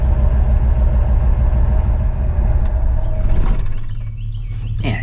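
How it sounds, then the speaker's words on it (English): An old OBS Ford F-150 truck engine, pulled out of the woods and running on stale gas, idles with a loud, steady low rumble that drops to a smoother, quieter drone near the end. "Hey, it's idling."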